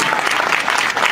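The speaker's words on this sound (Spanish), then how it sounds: "Un aplauso para Georgies." Audience at a press conference for the film It applauding the Georgie actors, a dense, steady burst of close clapping filling the whole moment.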